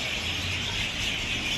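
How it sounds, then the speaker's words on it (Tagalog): Many birds chirp outdoors on a city street in Almaty, a dense, continuous high twittering that fills the air over steady background noise. "Grabe, ang daming ibon."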